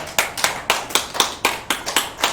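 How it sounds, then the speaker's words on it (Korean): Rhythmic, crisp claps from a church congregation giving praise to the Lord, about nine sharp, evenly spaced beats sounding close and clear with no talking. "우리 주님께 영광의 박수 올려드립니다."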